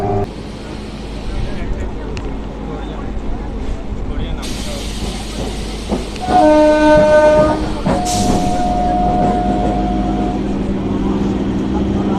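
Sealdah–Baruipur local train in Bengal rumbling along steadily with wheel clatter throughout, a loud horn blast sounding midway, and a voice talking over the noise.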